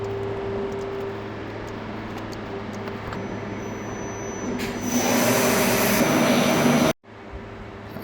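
A water jet cutter makes a test run without abrasive connected. A steady rushing hiss and hum swells louder for a couple of seconds, then stops abruptly and a quieter background hum returns.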